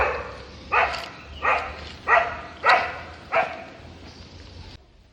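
Five or six sharp dog barks at a steady pace, fairly close, over a low background hum with no talking.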